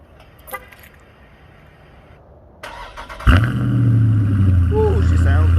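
Cold start of a 2020 Dodge Charger 392: a quiet lead-in, a click, then the engine cranks and barks to life with a loud rev before settling into a deep, steady rumbling idle.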